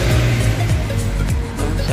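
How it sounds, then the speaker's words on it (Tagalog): A city bus in Saudi Arabia pulls up at a high-tech waiting station, its engine rumbling close and loud with rising and falling pitch as it arrives, no voices over it. "So, ayan na yung sasakyan."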